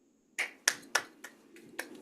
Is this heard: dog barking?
no